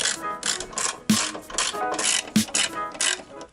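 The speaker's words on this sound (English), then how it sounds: "Remove these two 12mm bolts on the side and this" Ratchet backing out 12mm bolts and a nut from the airbox of an NA Mazda MX-5 Miata, close and loud, with fast clicking strokes and two sharper knocks as the tool resets.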